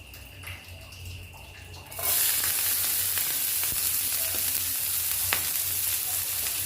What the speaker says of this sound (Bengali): তেল দিয়ে পেঁয়াজ কুচি আর লঙ্কা কুচিটা দিয়ে দেব।